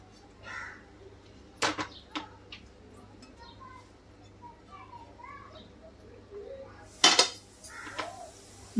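White sauce pasta being stirred in a pan with a spoon, giving sharp metallic clinks and scrapes at a few moments between quieter stretches, with soft kitchen background noise.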